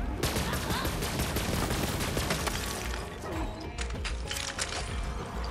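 Rapid gunfire in the shooter Borderlands 3, a loud, dense burst of repeated shots that rattles on for several seconds and then thins into scattered cracks and mechanical clatter, with occasional speech faintly underneath.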